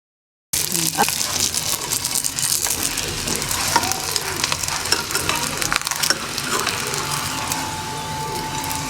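A keema paratha fries in oil on a flat pan with a dense, loud, continuous sizzle and crackle. Faint scraping from the turner shows through, and there is no talk.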